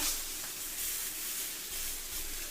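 Meat sizzling and hissing steadily on a hot Zepter grill pan as it is pressed down, a soft continuous crackle heard alone.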